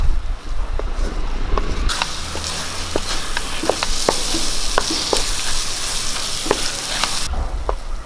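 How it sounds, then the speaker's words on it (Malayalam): Tomato masala for a home-style chicken roast sautéing in a pan, a steady loud sizzle with repeated scraping stirs of a spoon against the pan, no voices. "നമുക്കത് നല്ലപോലെ ഒന്ന് വഴറ്റിയെടുക്കാൻ തക്കാളിയൊക്കെ നലിഞ്ഞു വന്നോട്ടെ അതുവരെ നമുക്കിങ്ങനെ വഴറ്റി കൊടുക്കാം"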